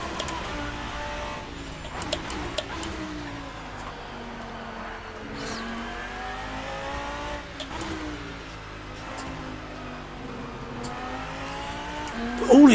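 GT-M Lanzo V10 Evo2 race car in the Assetto Corsa sim, its engine revving up and down through repeated gear changes in a steady loud whine across a lap.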